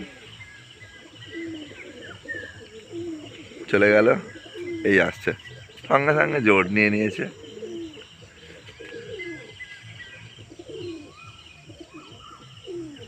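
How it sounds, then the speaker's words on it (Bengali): Pigeons coo softly nearby on a summer morning as they are released to fly, while someone talks over them; a few louder, tonal calls stand out midway. "পায়রা উড়িয়ে দিলাম"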